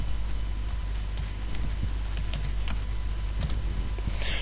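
Fingers tapping a computer keyboard nearby, a scattering of light, irregular key clicks over a faint steady hum.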